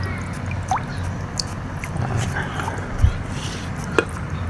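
A homemade ultrasonic fog maker sits in water that is running a little low, giving a continuous soft bubbling and gurgling hum with occasional drips and small splashes.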